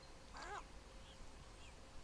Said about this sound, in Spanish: Se escucha un pájaro muy cerca